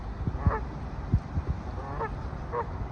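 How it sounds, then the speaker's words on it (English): Geese squabbling on the water, with several loud honks and harsh calls spread irregularly across a few seconds, close by over a low rumbling background. "you see the goose fight"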